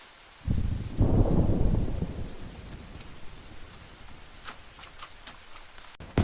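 Steady rain with a deep rumble of thunder rolling in, heavy at first and then easing into a softer downpour.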